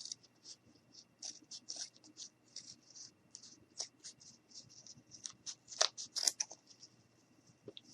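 Scissors snip through a paper craft piece for a snowman in a run of quick, close, light cuts, with a couple of sharper snips near the end.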